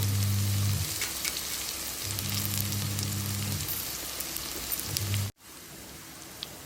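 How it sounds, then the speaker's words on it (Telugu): Okra pieces coated in gram flour, rice flour and spice powder fry in a pan with a steady, close crackling hiss that fills the clip. A low hum sounds in bursts underneath, and the sizzle turns quieter near the end. "ఇప్పుడు బెండకాయలు ఇలా వేగిన తర్వాత మనం ఇందాక కలిపి పెట్టుకున్న పౌడర్ని ఇలా కొద్ది కొద్దిగా చల్లుకుంటూ ముక్కలకి మొత్తం పట్టే వరకు బాగా వేయించుకోవాలి"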